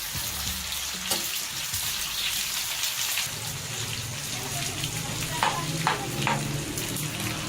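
Masala for Hyderabadi dum biryani frying in a pan, a steady broadband sizzle with occasional stirring clinks near the end, close and continuous with no speech.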